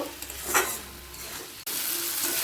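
Chopped capsicum sizzles with onion in a pan over a medium gas flame while an egg curry is made, a steady close frying hiss with a brief stirring scrape partway through, no voices.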